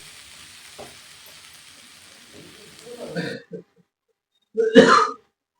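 Spices such as coriander and dried chilli sauté in a pan on the stove, giving a soft, steady sizzle for a few seconds before it stops. Someone then clears their throat and coughs.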